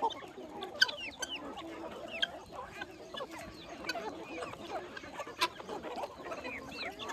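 Free-range country chickens on a half-acre poultry farm, clucking in scattered, overlapping calls with occasional sharper squawks, fairly quiet and at a moderate distance.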